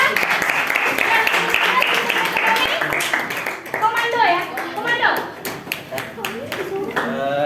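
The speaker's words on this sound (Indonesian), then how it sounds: "tepuk tangan untuk kelompok 2" Classroom applause for a student group presenting on economic systems, brisk clapping from many hands that fades as a speaker starts talking over it.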